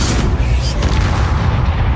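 Spell explosions from Bombarda and Confringo casts in Hogwarts Legacy, a continuous loud rumbling boom filling the whole stretch with dense low-end roar and crackle.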